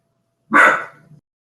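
A single dog bark, sharp and close, followed by a brief low trailing growl, with no other sound around it.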